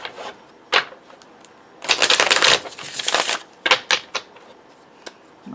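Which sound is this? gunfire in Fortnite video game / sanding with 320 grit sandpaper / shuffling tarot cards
shuffling tarot cards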